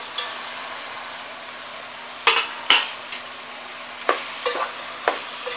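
Mutton frying with onions in a pan, a soft steady sizzle under a few sharp scrapes and knocks of a spoon stirring the pan, close and without talk.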